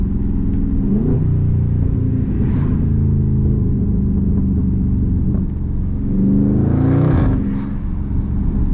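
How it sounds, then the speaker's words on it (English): A Dodge Charger Daytona 392 in manual mode, its engine droning loudly and steadily as the driver works the paddle shifters, with revs swelling and surging again near the end as it pulls through an upshift. "I have full access to the paddle shifters. Upshift,"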